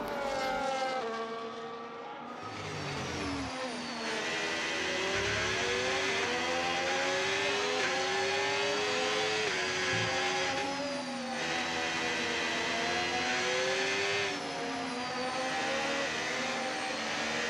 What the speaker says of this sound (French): j'ai freiné légèrement plus tard, ce qui m'a permis de dépasser Verstappen et de prendre la tête de la course